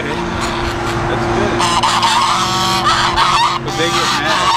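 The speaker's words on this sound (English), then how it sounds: "someone put the geese, those regular geese here?" Geese on a farm honk loudly and repeatedly, several birds calling over one another in harsh overlapping bursts close by, with no clear speech among them.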